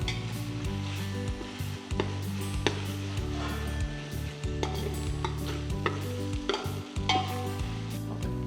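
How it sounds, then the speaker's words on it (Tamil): Ginger and garlic are sautéed in a pan for chicken mandi biryani, with steady sizzling and frying under repeated close scraping strokes of a stirring spoon, with no talk. "இப்போ நல்லா இஞ்சி பூண்டோட பச்சை வாசனை போகிற வரைக்கும் நல்லா வதக்கி எடுத்துக்கலாம்."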